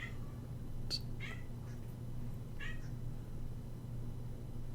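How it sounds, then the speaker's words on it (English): A pet cat meows several times, short high cries in quick succession, muffled and somewhat distant over a steady low electrical hum. "I'm sorry if y'all can hear my cat."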